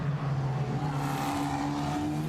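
A Formula Renault Eurocup race car runs in qualifying at Imola, its high engine whine rising in pitch as it passes, loud and continuous across a short stretch with no speech.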